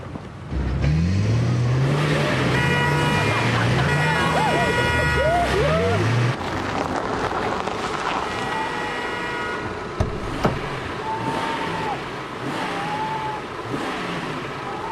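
A car engine revs and accelerates toward someone, the motor pitch rising and falling in swells, with a siren-like warbling tone and voices partly mixed in.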